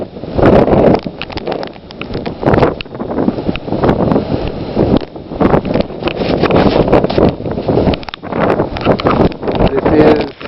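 Incredibly strong wind during the February 2010 Delaware blizzard snowstorm, loud gusting roar buffeting the microphone in surges, with a voice speaking intermittently underneath.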